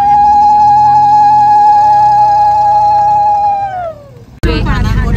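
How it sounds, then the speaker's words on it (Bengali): Women ululating at a Bengali wedding, a sustained high warbling ulu held for about four seconds before it trails off, followed by a burst of loud crowd noise. "আরো জোরে উলু দাও।"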